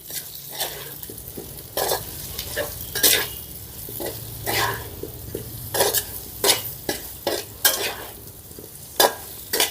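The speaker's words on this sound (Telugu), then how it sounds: "ఇప్పుడు ఈ మొత్తాన్ని ఒకసారి కలుపుకుందాం" Cumin powder, coriander powder and chopped green chillies frying in a pan with potatoes and fenugreek leaves, stirred with a spoon in repeated close scraping strokes over a soft sizzle.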